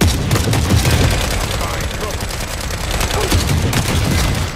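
Dense, loud video game gunfire crackles without pause in rapid overlapping bursts and booms, forming a continuous barrage of shooting.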